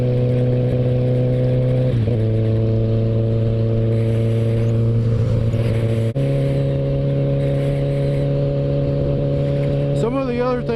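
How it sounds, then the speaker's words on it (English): A 2016 Kawasaki ZX14 motorcycle with a Voodoo straight-through exhaust holds a loud, buzzing steady rev, dips briefly, then settles at a higher pitch before a quick wavering blip near the end. "Just give y'all a little taste of this voodoo exhaust."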